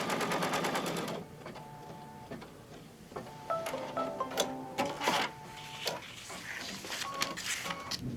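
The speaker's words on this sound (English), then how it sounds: "you see how it's stitching straight across" An embroidery machine stitches applique across a tea towel, a rapid mechanical whirring in bursts with brief pauses and small clicks, close and fairly quiet.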